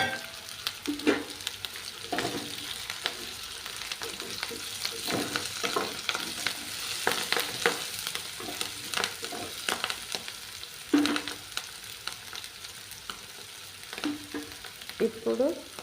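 Turmeric and curry leaves fry in a pan for a tomato egg curry, a soft steady sizzle broken by repeated scraping and stirring strokes of a spoon, with no talking.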